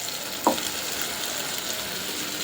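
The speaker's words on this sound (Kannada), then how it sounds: "ಇದ್ರ ಜೊತೆಗೆ ನಾವು ಟೊಮೊಟೊ ಪೇಸ್ಟ್ ಹಾಕೋಣ ಒಟ್ಟಿಗೆ, ಅದು ಚೆನ್ನಾಗಿ ಫ್ರೈ ಆಗಲಿ ಅಂತ." Masala frying in oil with tomato paste for kadai paneer, a steady close sizzle throughout, with one brief stir or scrape near the start and no talking.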